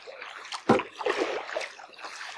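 Paddle strokes from a Pelican Pursuit 80X kayak stir and splash the water, with one stronger swish near the start and softer dripping and trickling after it, close by.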